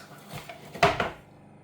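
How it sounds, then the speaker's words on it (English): A knife cuts through two eggs in a pan at breakfast, giving a couple of close scraping clinks of metal on metal that fade out quickly, with no talk. "Why am I using a knife to cut my eggs?"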